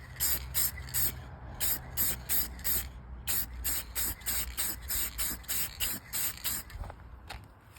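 Gloss clear coat sprays from an aerosol can onto a Mazdaspeed 3 fender in a rhythmic series of about twenty short, sharp hissing bursts, each followed by a brief pause, close and fairly loud.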